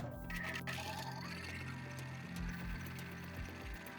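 A domestic sewing machine runs a zigzag seam through fabric 7 mm from the edge while sewing a headband from scrap cloth. The steady mechanical whir and rapid ticking of the needle mechanism carry on at moderate level for the whole stretch.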